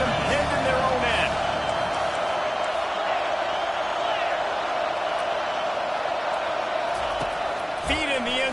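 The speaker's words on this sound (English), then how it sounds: "The roar of the crowd trying to fuel this defense to keep them pinned in their own end." Stadium crowd roaring at an American football game, a steady loud wash of cheering and noise with an announcer talking over it.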